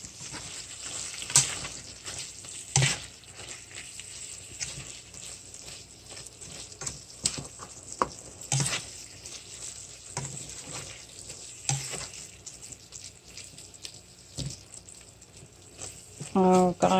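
Low carb taco cabbage sizzles and fries in a skillet while being stirred, a steady crackling hiss with scattered scraping clicks of the utensil, fairly close and moderately quiet, with no talking.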